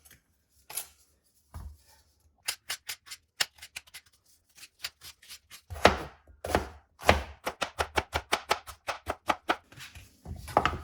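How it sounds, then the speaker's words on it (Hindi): A knife chops cabbage into small pieces on a cutting board, with sharp rapid strikes that start sparse and build into a dense, steady run of close, crisp taps. "ये देखिए बंद गोभी के भी मैंने इसी तरह छोटे छोटे पीस कर लिए"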